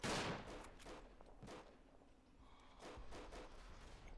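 Gunfire cracks out in a World War I Verdun battle game, several scattered shots with an opening blast and a later cluster of reports, moderately loud over a low battlefield rumble.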